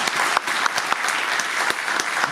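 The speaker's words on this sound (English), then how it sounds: "I wanted a big round of applause for all of them" Audience at a 2023 Hall of Fame ceremony applauding team members, loud dense clapping from a crowd, steady and continuous across the short stretch.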